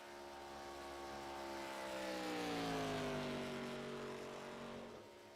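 A race car in iRacing's ARCA Series sweeps past the line, its engine tone rising and then falling steadily as it passes close and fades, with a whining harmonic pitch.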